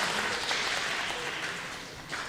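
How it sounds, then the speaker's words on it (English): A crowd at a boys' high school swim meet cheers and applauds, a steady wash of clapping and shouting that echoes through the pool hall and swells briefly near the end. "You can hear the crowd."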